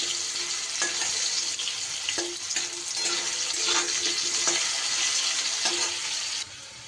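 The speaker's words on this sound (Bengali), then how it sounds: "আলুটা এক মিনিটের মতো ভেজে নিয়ে" Potatoes frying in oil in a pan for a stalk, potato and pumpkin curry give a steady, close sizzle, broken by regular soft knocks of stirring throughout, with no talking.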